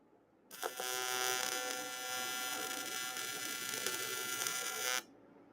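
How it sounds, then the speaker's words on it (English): An Everlast welder tacks a joint during a multi-project session on an engine block, giving a steady, loud electric buzz and crackle that starts abruptly, holds for about four and a half seconds, then cuts off. "It's actually welding pretty well."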